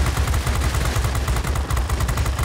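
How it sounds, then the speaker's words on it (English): Aircraft machine guns in World of Warplanes fire a dense, continuous rattle of rapid shots, loud and close throughout with a heavy low thump under each burst. "He's shooting at me, and he's doing damage."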